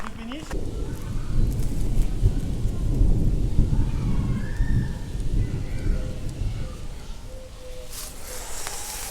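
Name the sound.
thunderstorm arriving in a fishing video game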